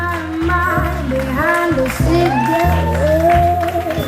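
Crowd at the Miss Rock'n Guinguette 2025 pageant in Harmignies applauds and cheers a contestant while loud music with a strong bass line plays, with some shouts mixed in.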